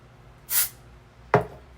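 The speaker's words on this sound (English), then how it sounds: "I'm just going in again with that texture spray, and I'm going to spray up into my hair." Texture spray is sprayed up into hair in two short hissing bursts: the first a soft airy puff, the second sharper and louder, both close and with no talking.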